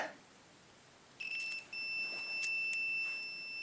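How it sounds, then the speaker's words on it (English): A faint click, then a bright electronic beep from a 1946 Classic TM5 under restoration starts and holds as a steady high tone, briefly interrupted before continuing, with light handling noise nearby. "yep, it's beeping."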